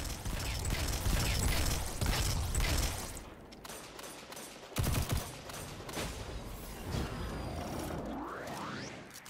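Gunfire from two guns in the Destiny 2 video game, dense shooting at first, then sparser single shots, mechanical clicks and reload sounds, ending with a rising whoosh.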